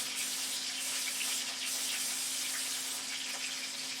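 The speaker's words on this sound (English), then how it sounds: "spray with some Pam cooking spray" A steady, fairly quiet hiss of cooking spray from an aerosol can onto foil runs without a break for the whole clip, with no voices.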